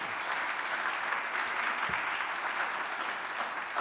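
A university convocation audience applauds a standing honoree, dense steady clapping from a large crowd, even and continuous throughout at moderate distance.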